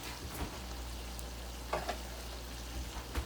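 Onions turning translucent fry in a pan with a steady low sizzle, quiet and continuous, marked by a few faint clicks and stirring touches, with no talking.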